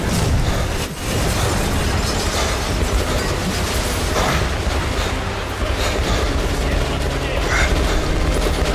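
Grenade blasts in the Metro Last Light shooter game go off amid dense, loud combat noise, with heavy booms and crackling bursts piling up continuously and a voice talking over the mix.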